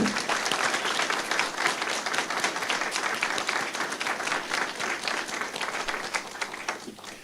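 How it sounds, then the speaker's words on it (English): Steady, dense audience applause for school board candidates at a district forum, continuous clapping from a sizable crowd that tapers slightly toward the end. "Let's give these candidates a big round of applause."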